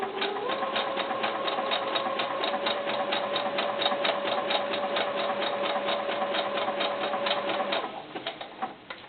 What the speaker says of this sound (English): let your sewing machine do all the work